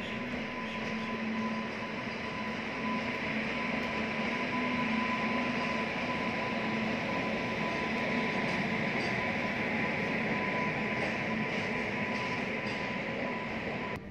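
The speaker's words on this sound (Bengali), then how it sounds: "এই দুটি রেল স্টেশনের ওপর দিয়ে হাজার হাজার যাত্রী নিয়ে প্রতিদিন আপ ডাউন করে 71টি লোকাল ট্রেন" A local train passes through Lake Gardens railway station in Kolkata, producing a steady, loud rumble with a faint high whine that holds for the whole stretch. No one speaks.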